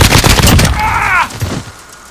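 Gunfire in a Modern Warfare online match crackles in dense bursts for over a second, then fades as a brief voice-like tone rises midway and the clip drops to quieter background.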